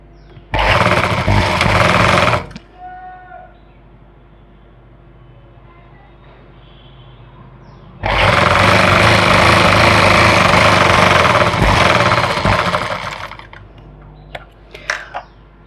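Electric sewing machine stitching a salwar seam, two long loud bursts of rapid, steady whirring and needle clatter, separated by a quiet pause with faint handling sounds, then a few short taps at the end.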